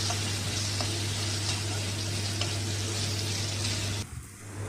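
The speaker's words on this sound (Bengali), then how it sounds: "আলুটাকেও আমরা নুন হলুদ দিয়ে ভালো করে ভেজে নেব।" Potato pieces fry with salt and turmeric in a hot pan, giving a steady dense sizzle close by that runs continuously before cutting off abruptly near the end, with no talking.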